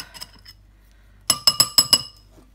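A small spoon clinks against glass as it is rinsed, a few faint taps followed by a quick run of five bright, close chimes.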